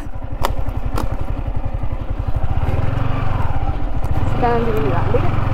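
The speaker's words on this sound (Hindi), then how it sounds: "पूरे जंगलों में ना बाइक घुमा रहे हम।" Motorbike ridden along a jungle track, its engine thumping steadily and close throughout, with rattling and clatter from rough ground and a brief voice near the end.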